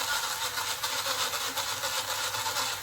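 A battery-operated fluff shaver lint remover runs steadily with its clear clasp spinning, giving a continuous close whirring motor hum with a broad buzzy hiss that holds even throughout.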